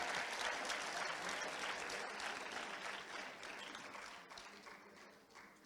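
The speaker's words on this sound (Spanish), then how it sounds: "Eduardo, un fuerte aplauso, por favor." Loud, sustained applause from a large audience at a sports awards gala in Canet d'en Berenguer, Spain, a dense wash of clapping that slowly fades toward the end.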